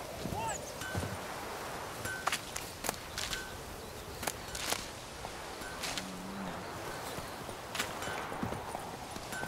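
Horse hooves clip-clop at a steady walking rhythm in The Witcher 3 video game, near and moderately loud, over a buzzing insect ambience, with a rider's voice speaking at times.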